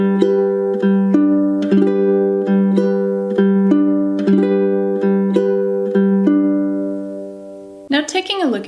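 Ukulele fingerpicking in a steady rolling pattern, plucked notes ringing over sustained low tones, chord changes every couple of beats, then a voice begins at the end.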